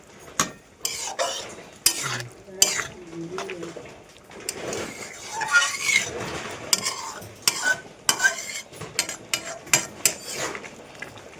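A spoon stirs a watery mixture in a metal pot on a home kitchen stove, making repeated scraping and clinking strokes at an uneven rhythm, close and moderately loud, with faint sizzling underneath.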